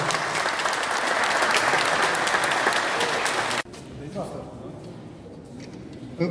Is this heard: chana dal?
no